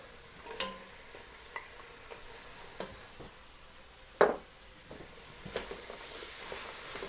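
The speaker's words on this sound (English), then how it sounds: "just for about 8 to 10 minutes, cook this stirring." Carrot, celery and apple cooking in a pot for mulligatawny soup, a faint soft sizzle with sparse spoon scrapes and one sharper clack against the pot, no voices.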